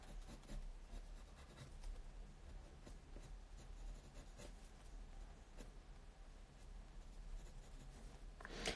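A pencil moves across paper while outlining a portrait of Daenerys, giving soft, continuous scratchy strokes that are close and faint, with no voices.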